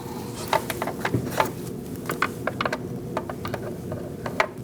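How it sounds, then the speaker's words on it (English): An adjustable wrench loosens the top of the oil filter housing on a 2000-2006 Mini Cooper, giving a string of light metallic clicks and ratcheting ticks over a low background hum. "I'm going to use an adjustable wrench, and we're going to undo the top of our oil filter"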